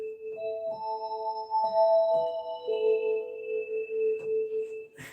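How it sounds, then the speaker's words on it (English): Soft, sustained pipe organ tones from a fifth-sounding nazard flute stop play a slow sequence of held notes, pure and hollow in character, with no voices. "You could add a fifth flute nazard kind of stop."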